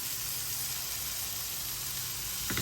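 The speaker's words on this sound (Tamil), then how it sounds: "நான் வெங்காயம் போட்டுடுறேன்." Onions sizzle in a hot pan with green chillies and curry leaves, a steady close hiss of frying that holds even throughout, with a brief stir near the end.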